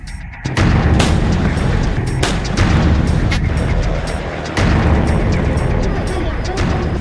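Short- and long-range ballistic missile launches during Chinese military drills around Taiwan, heard as a loud continuous roaring rush with repeated booming bursts, under a narrating voice.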